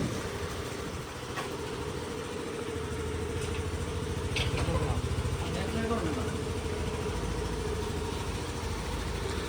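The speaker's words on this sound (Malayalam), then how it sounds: "വണ്ടി സ്റ്റാർട്ടാക്കുകയും ചെയ്തു." A steady, low car engine rumble idles continuously in a dense forest while the car has a fault, with a few faint clicks and knocks over the drone.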